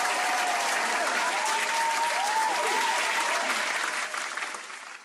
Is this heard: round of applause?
yes